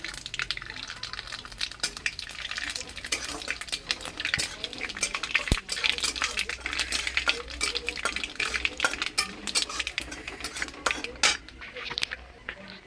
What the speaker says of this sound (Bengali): আমি দিয়ে দিচ্ছি এর মধ্যে 5 ফোড়ন, আর দিয়ে দিচ্ছি কিছু কালো সরিষা।